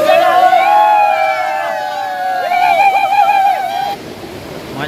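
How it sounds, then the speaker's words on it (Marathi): Sea waves splash at a Konkan beach near Ratnagiri, a constant surf wash running beneath loud, excited voices that shout and call out over the water. "पाणी लगेच अंग जसं गेलं तसं पाणी पाठी फेकतं"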